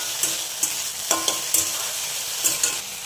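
Fish frying in a pan with a steady soft sizzle, punctuated by several sharp clinks and scrapes of a utensil at irregular intervals, close and moderately loud, with no talking.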